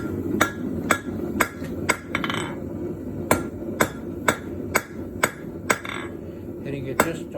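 A rounding hammer strikes hot bronze leaf stock on an anvil in a series of sharp, ringing metallic blows at a steady, slightly irregular pace, close and loud over a low background rumble.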